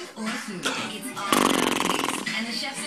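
A child blows a raspberry with the mouth to imitate a fart, a loud buzzing burst of about a second in the middle, with adults talking before and after.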